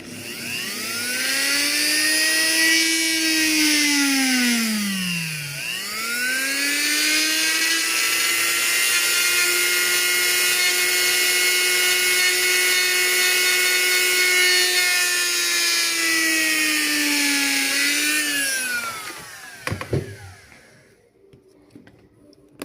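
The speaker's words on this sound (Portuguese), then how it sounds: "É assim que eu furo as minhas velas." A high-pitched rotary drill whines continuously up close, drilling holes in candles, its pitch dipping once as it bites into the wax, then stopping with a few small clatters.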